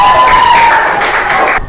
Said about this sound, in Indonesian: Kita kasih tepuk tangan buat semuanya yang sudah presentasi hari ini.